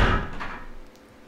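A door opens in the Resident Evil video game with a single heavy, low thud and creak that quickly fades into a dim, hollow ambience.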